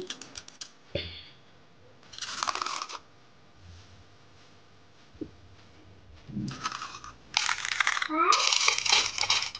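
Crispy masala garlic sev, freshly fried, is snapped by hand in a few separate bursts of sharp crunching and crackling, with quiet pauses and faint handling noises between them.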